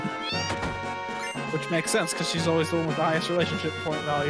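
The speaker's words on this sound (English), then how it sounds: "Like, that's a cat." A cat meows within Final Fantasy VII gameplay, a short rising cry set against steady background music while a person talks over it.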